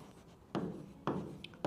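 Two short bursts of pen scratching across paper while an essay is handwritten, quiet and close, separated by a brief pause, with no talking.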